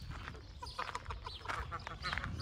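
Several geese honk and cackle in short bursts nearby, fairly quiet, with some faint talking mixed in.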